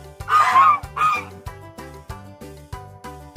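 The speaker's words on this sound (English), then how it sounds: "geese." Geese honk twice in quick succession, loud and near, then fall quiet while a steady rhythmic musical beat continues underneath.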